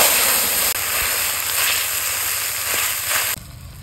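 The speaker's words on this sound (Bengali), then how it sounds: "এখন একটু পানি দিয়ে দিলাম," Water poured into a hot pan of frying onions in a village kitchen gives a loud, steady steaming hiss that runs for about three seconds before dropping away abruptly.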